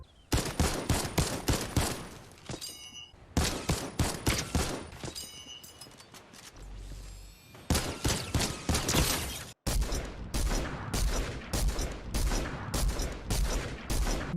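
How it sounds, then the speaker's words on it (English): Infantry rifle gunfire in the Fortnite video game, rapid strings of sharp, close shots in bursts with short pauses, some ringing mechanical clatter between volleys, and no talking. "Next up, we've got the infantry rifle."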